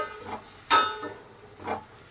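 Spices and tomatoes being stirred in a hot pan for a Punjabi sev tameta curry, with a soft sizzle and a sharp scrape of the spoon near the middle and a couple of quieter stirring strokes, close and alone.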